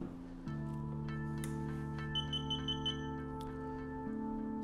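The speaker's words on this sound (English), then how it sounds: "You'll hear a series of beeps, and then you'll see the motors adjust the camera to the position." A camera stabilizer starting up: a short series of five high, evenly spaced electronic beeps over a steady low motor hum, fairly close and clear.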